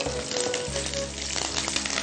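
Curry leaves hit hot oil in a home kitchen pan and fry with a loud, steady crackling sizzle that holds for a couple of seconds, with no voices over it.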